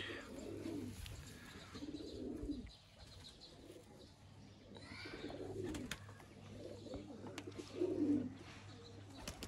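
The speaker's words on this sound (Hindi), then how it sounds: "सियालकोटी बटेरे कबूतर है" Sialkoti pigeons coo in a series of low, soft, rolling calls that repeat every couple of seconds over a steady background hum, fairly close and moderately quiet.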